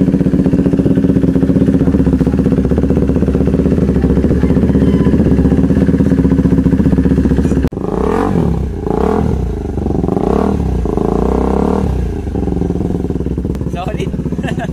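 KTM RC390 with a decat delete, resonator and silver Akrapovic R11 muffler, idling loud and steady, then blipped through several rising revs with pops, voices talking over it.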